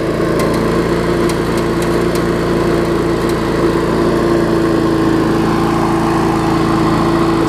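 An older Murray 4 hp lawn mower engine runs steadily close up with a loud, even drone and no surging, plus a few faint ticking taps early on.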